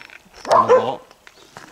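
A dog gives one loud, close bark or yelp with a short tonal cry, then the sound drops back to quiet background with faint clicks.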